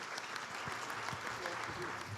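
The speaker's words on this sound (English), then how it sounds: "may I invite you to please give a round of applause to our panel" A conference audience at a high-level meeting of middle income countries applauds its panel members, a short, steady patter of many hands, moderately distant, with a voice speaking faintly over it.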